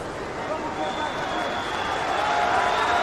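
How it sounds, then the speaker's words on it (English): An arena crowd at a UFC bout roars and applauds the two fighters in the final minute, a broad continuous wash of cheering and clapping under a commentator's voice. "Appreciative crowd for these two warriors as we hit the final minute of the fight."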